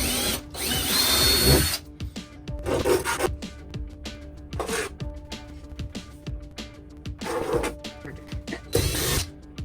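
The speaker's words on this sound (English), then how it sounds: "It'll take a couple times going through, but the cut will be so much cleaner." A power saw cuts wood during a 5th-wheel RV bunkhouse renovation, sounding in several short, loud bursts separated by quieter pauses and clatter.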